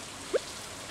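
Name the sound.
rain falling in the video game Stardew Valley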